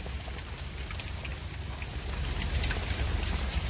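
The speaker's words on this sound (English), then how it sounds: "No, that's not snow. It's hail." Spring hail falling steadily outside, a dense, continuous patter of many small impacts that stays loud and grows slightly stronger toward the end, with no voices.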